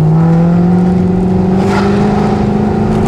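A Mercedes C63 AMG engine held high in the revs, a loud, close, sustained howl whose pitch climbs slowly and steadily.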